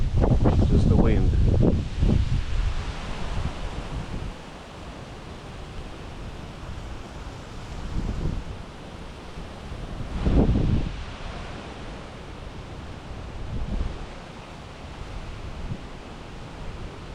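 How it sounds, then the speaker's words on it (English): Hurricane Milton's strong wind roars across a beach, buffeting the microphone in heavy rumbling gusts that swell and ease, with loud blasts near the start and again around the middle, amid flapping fish houses. "It's just the wind."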